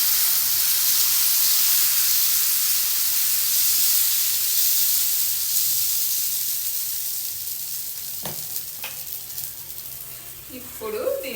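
Pesarattu batter of green gram sizzles loudly and steadily on a hot pan, its hiss slowly easing. A few clicks follow near the end and a voice speaks briefly.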